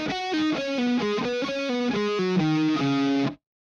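A distorted electric guitar plays a measure of a riff with pull-offs and quick picked single notes, gritty and sustained, close and loud before ringing to a sudden stop.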